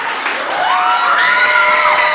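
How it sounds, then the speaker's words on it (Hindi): An audience at a Sindhi qawwali show cheers and whoops with rising shouts over a steady crowd roar, with clapping mixed in throughout. "एक तालियां बजाकर बता दें।"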